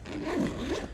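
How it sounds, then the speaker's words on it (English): Zipper on a KastKing fishing tackle backpack pulled open in one smooth, close rasping stroke, loud and alone. "Zip this open."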